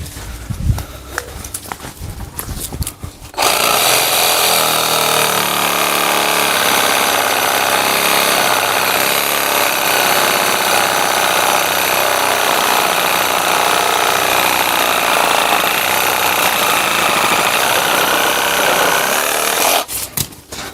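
A WOYOFADA cordless reciprocating saw cuts thin, springy branches: a loud, steady buzzing rasp runs continuously for about seventeen seconds after a few seconds of handling knocks, then stops abruptly.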